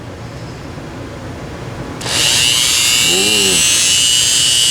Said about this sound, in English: I've also got my Dremel with a little sanding disc on it